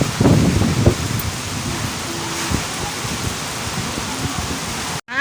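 Heavy rain pours down steadily in a dense, hissing wash, with a few louder splashes and knocks near the start and a brief dropout just before the end.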